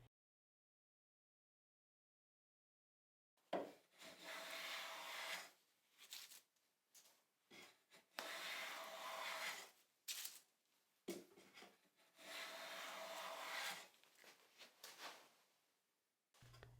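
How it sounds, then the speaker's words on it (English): Hand plane shaving along the full length of a wooden board's edge, a silent pause followed by repeated long rasping strokes with brief gaps between passes. "I'm planing along the whole length of the board"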